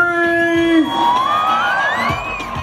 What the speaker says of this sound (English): Edinburgh, can we make some noise for the reason we're here today?